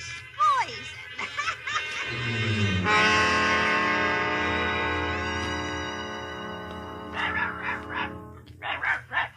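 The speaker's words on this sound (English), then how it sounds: "Look, it's Dorothy's dog." Dorothy's small dog barking in The Wizard of Oz (1939), short yaps early and late around a long sustained orchestral passage, with voices mixed in.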